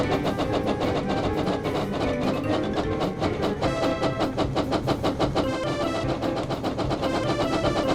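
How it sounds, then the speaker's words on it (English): Train engine noise from the Thomas & Friends: Hero of the Rails Wii video game, a steady, loud mechanical rumble with dense rhythmic chugging and bright musical tones layered over it throughout. "Use the Wii remote to make the engine go faster."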